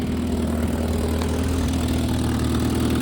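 Steady low rumble of a car engine idling up close, with a rough, puttering pulse suggesting a leaky exhaust, constant and unbroken.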